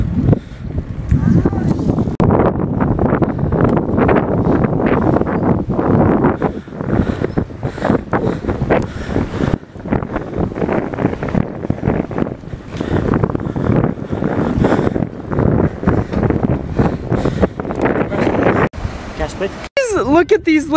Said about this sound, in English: Feel the breeze.